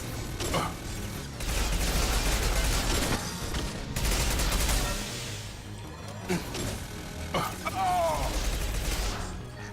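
Machine pistol fire in the video game Mass Effect 2 sounds as rapid, loud bursts mixed with mechanical clatter and in-game effects. The bursts come in several separate volleys, and a voice talks faintly underneath.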